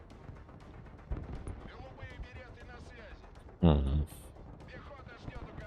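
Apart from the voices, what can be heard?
mortar fire in the video game Broken Arrow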